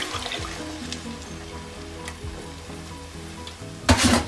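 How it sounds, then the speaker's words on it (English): Lobster stock and coconut milk hit a hot pan for a katsu curry sauce, giving a steady close sizzle with a louder burst of hissing and bubbling near the end, no voices. "So lobster stock, coconut milk in the pan."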